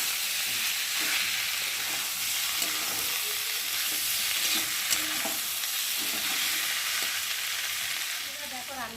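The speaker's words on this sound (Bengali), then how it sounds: "আর এখন আমি সেদ্ধ করে রাখা আলুগুলোকে দিয়ে ভালো করে নেড়ে নামিয়ে নিই" Boiled potatoes stirred into spices frying in oil in a pan, giving a steady, close sizzle with soft scraping stirs throughout and no talking.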